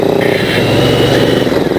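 A Kawasaki motorcycle ridden along the road, its engine droning loud and steady at cruising speed with rushing wind noise layered over it.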